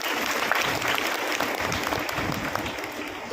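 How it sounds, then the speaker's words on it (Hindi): An audience at a motivational seminar gives loud, sustained applause, a steady dense patter of many hands clapping at once throughout the short clip. "ये जोरदार तालियां आपके लिए।"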